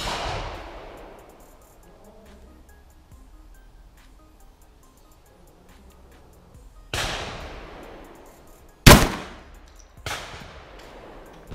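Ata Arms Neo 12 shotgun firing Karat 12/70 slugs at a target: about seven seconds of quiet outdoor hush, then three sharp, loud, close blasts spaced a second or two apart, each with a fading echo tail.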